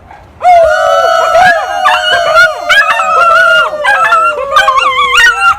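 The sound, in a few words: people imitating a hound dog howl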